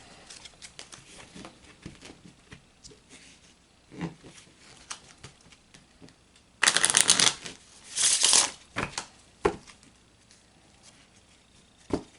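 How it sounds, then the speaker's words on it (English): Oracle cards shuffle in soft riffling bursts, a louder flurry of shuffling toward the middle, with scattered light handling clicks around it. "we're going to take the Mitchell Numbers Oracle and we're going to shuffle that"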